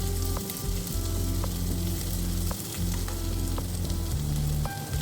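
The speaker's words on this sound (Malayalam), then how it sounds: "അത് പൊട്ടി വരുമ്പോഴത്തേക്കും സവോള, ഇഞ്ചി, വെളുത്തുള്ളി എന്നിവ ഇട്ട് കൊടുക്കുക. അത് നന്നായി വഴറ്റിയെടുക്കണം." Onion, ginger and garlic sauté in hot oil in a pan for an egg curry, giving a loud, steady sizzle and crackle throughout with occasional clinks of a stirring spoon.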